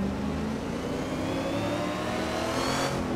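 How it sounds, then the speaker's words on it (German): A loud, high-revving race-tuned Ford Mustang Boss 302 engine in Assetto Corsa climbing steadily in pitch, close and continuous, with no talking. "Der klingt auf jeden Fall echt schön rennmäßig"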